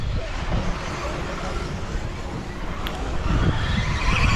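A Schumacher Cat L1R four-wheel-drive RC car races through a corner at a club race meeting, its high electric whine and tyre noise steady throughout, with a commentator's voice over it.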